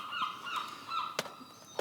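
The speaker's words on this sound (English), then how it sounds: "feels like home with all the seagulls." Gulls calling outdoors at a courtyard concert setting, a series of bright wailing and honking cries with two sharper, louder calls near the end, moderately close over steady background.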